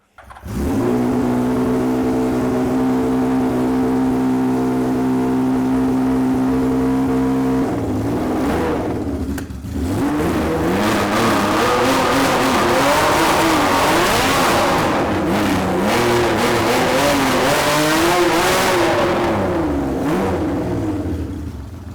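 A home-built race car engine revs loudly and continuously, first holding a steady high idle, then dropping briefly before climbing through repeated throttle blips with rising and falling pitch, close to the microphone.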